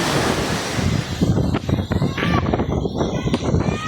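Strong wind buffets the microphone while sea waves surge and break at the shore in rough, stormy weather, a loud continuous roar with repeated crashing swells.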